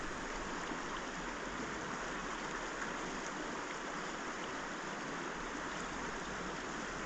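Fast-flowing glacier meltwater stream at a glacier in British Columbia, Canada, a steady, dense rushing roar of water that stays constant and fairly close throughout, with no voices.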